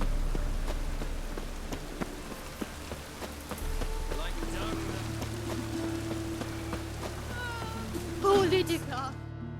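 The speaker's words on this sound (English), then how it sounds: "Looks like rain." Steady rain patters on surfaces in The Witcher 3, a constant soft hiss with scattered drop ticks throughout, and a brief louder disturbance near the end.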